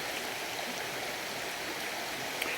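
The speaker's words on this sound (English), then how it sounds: "That's why I'd rather sit here with the gurgling brook." A gurgling brook flows outdoors, a steady broad rushing of water that is soft and continuous, with no other sounds standing out.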